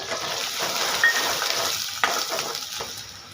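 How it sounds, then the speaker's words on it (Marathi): Chopped onion, added after crushed garlic, frying in a pan until golden for a raw young jackfruit curry; a steady, close sizzle with occasional stirring clinks and scrapes, no talking. "तर कांदा छान असा सोनेरी रंग येऊस्तोवर फ्राय करून घ्यायचा आहे आपल्याला"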